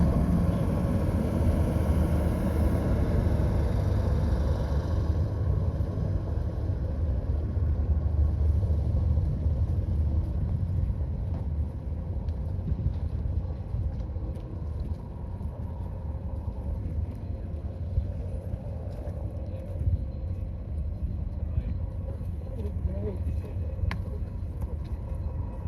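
A short Te Huia passenger train, including its cafe car, rolls past with a steady, heavy low rumble and engine drone that holds for a long stretch and eases slightly partway through.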